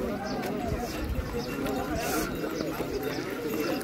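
Horses walk a mountain path near the Chandanwadi checkpoint on the Amarnath Yatra pilgrimage route, with faint hoof clops mixed into a steady din of crowd chatter and nearby voices.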